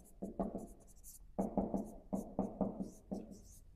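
A pen writes a quote onto paper in quick, scratchy strokes, in short bursts separated by brief pauses. The sound is close and quiet, with no talking.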